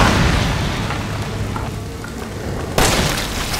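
A single loud, sharp gunshot cracks out near the end in Resident Evil 7, breaking through a steady, dark rumbling background.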